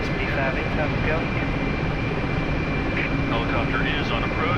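Mi-8MTV2 helicopter engine and rotor in the DCS flight simulator on an Arctic mission, a steady loud drone running throughout beneath radio chatter.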